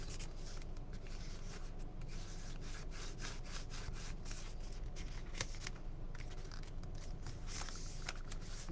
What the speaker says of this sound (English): we are going to burnish our score lines, because you want nice crisp lines for this.